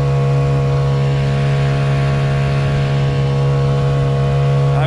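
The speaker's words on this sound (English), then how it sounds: "Man, this motor does not skip a beat." A Honda 50cc outboard motor runs steadily on a boat, a loud, even, humming drone with no changes in pitch or rhythm throughout.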